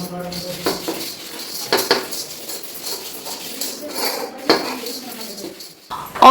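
Many steel dishes and pots are handled and washed, with repeated clanks, clinks and scraping of metal utensils at close range, in irregular bursts throughout.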